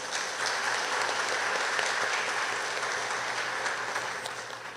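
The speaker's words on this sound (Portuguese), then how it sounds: "salva de palmas" A church congregation gives sustained applause during a novena Mass honouring Christ the King, a dense, even wash of many hands clapping steadily throughout without a break.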